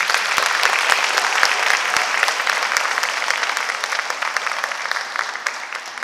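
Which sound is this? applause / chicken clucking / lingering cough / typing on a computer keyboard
applause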